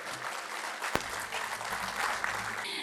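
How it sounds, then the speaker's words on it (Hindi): Applause from the audience at the 18th All India Mushaira poetry gathering in Ludhiana, a steady moderate wash of clapping with one sharp louder clap, faint murmurs underneath. "मैं चाहता हूँ ज़ोरदार तालियां एक बार उनके लिए।"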